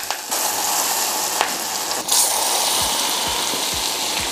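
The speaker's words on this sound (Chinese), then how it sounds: "再浇入热油啊" Hot oil poured over minced garlic, scallion, chili flakes and black sesame in a bowl sets off a loud, steady sizzle that holds close and continuous throughout.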